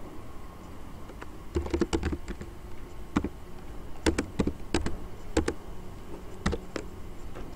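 Computer keyboard typing while ABAP code is written, bursts of sharp, close key clicks in short irregular clusters separated by brief pauses, over a steady low background hiss with no talking.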